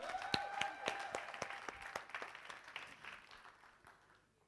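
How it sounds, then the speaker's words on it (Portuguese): Applause from an audience at an innovation awards ceremony in Curaçao, a burst of clapping hands that starts fairly strong and gradually thins and fades over several seconds, heard from some distance. "Un aplauso más, Shonang."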